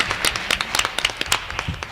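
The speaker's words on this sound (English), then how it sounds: "Well, we got to give them a round of applause." A round of applause at a school board of education meeting for two schools: brisk, dense clapping from a seated audience that sustains steadily for a couple of seconds.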